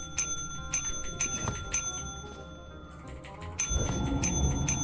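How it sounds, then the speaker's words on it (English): A bell in a video game rings over and over, sharp metallic dings repeating in a quick irregular rhythm over a background of rumbling game noise, with no voices. "this bell's gonna annoy the shit out of me"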